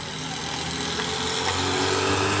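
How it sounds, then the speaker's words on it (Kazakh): Engine noise of cars rolling past, a steady broad rumble that swells slightly, with no talking. "Мына биздин машиналар үркүп өтүп турат."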